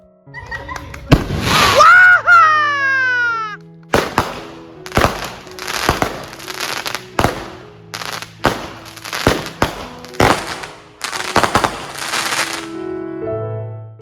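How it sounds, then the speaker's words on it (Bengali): New Year's Eve fireworks go off nearby in a rapid series of sharp bangs and crackles, opening with a rising whistle, then loud bursts spaced irregularly across the stretch, with no voices. "অন্যদিকে কারা আবার ফায়ার ওয়ার্ক শুরু করে দিয়েছে"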